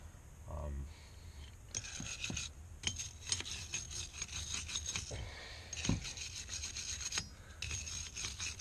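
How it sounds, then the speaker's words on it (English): Wire bristle brush scrubs old thread tape off metal pipe threads during a valve replacement, a series of quick scratchy rasping strokes at close range, some bursts sharp and bright, with faint talk. "These things are great for cleaning off that old tape, cleaning the threads up."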